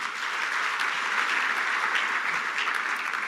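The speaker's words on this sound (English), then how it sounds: "A round of applause for the team." Guests at an appreciation dinner applaud Botswana's national athletics team with steady, even clapping that fills the room for a few seconds without letting up.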